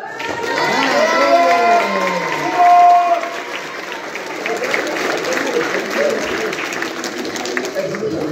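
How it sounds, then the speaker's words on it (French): An audience claps and cheers at a premiere event, a sustained wash of applause that carries on steadily with voices and shouts mixed in. "qu'on puisse encore applaudir"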